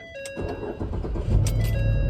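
A car engine cranks and catches in a home driveway during a DIY oil change, a short starter whir followed by a steadier, louder running rumble that holds close by to the end.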